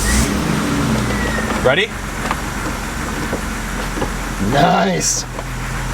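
A car pulls away on a test drive once it finally goes into gear, its engine hum and road noise steady and close, with a couple of brief rising whooshes as people exchange a few short words.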